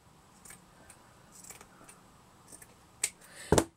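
Scissors trim a paper doily down to size, with a few faint, scattered snips and crinkles followed by two louder cuts near the end, close with no talk.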